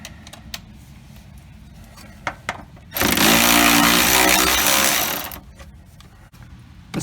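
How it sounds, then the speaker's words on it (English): A few sharp clicks, then a loud whirring battery ratchet spins out car rear sway bar link bolts for about two seconds before cutting off, followed by more light clicks. "power tool to spin them the rest of the way out"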